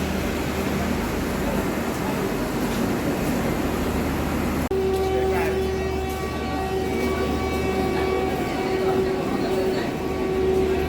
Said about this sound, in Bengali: নেমে পড়েছি এখন আমরা আসানসোল স্টেশন থেকে, যাচ্ছি প্ল্যাটফর্মের বাইরে। প্রচণ্ড টায়ার্ড আমরা, আর এখানে প্রচণ্ড আওয়াজও করছে